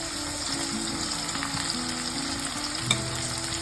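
Potatoes frying in oil in an open pressure cooker for mutton curry, a steady close sizzle with light stirring scrapes and one sharp clink near the end, no talk.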